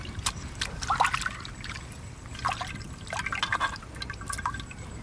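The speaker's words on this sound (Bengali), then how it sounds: "ধনে পাতাটাও ভালো করে ধুয়ে নিচ্ছি।" Fresh coriander leaves being washed by hand in water in a home kitchen, with soft trickling, sloshing and dripping splashes in irregular bursts, fairly close and quiet.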